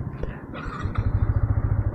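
A Yamaha MT15 motorcycle idles close by, its exhaust giving a steady, rapid low-pitched thumping pulse that grows firmer and more regular after the first second, heard alone without voices.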